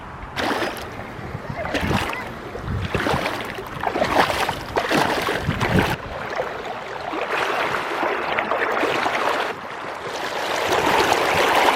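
Slower-flowing river water in a canal beside a small peninsula in Montana, a steady, broad rushing wash with occasional splashes and wind, with a voice talking over it at times.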